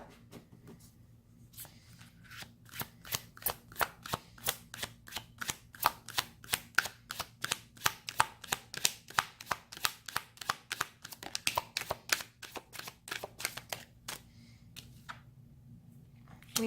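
Tarot cards are shuffled by hand in a long run of quick, crisp flicks and taps, close and fairly quiet, against a low background hum, then the shuffling slows and stops.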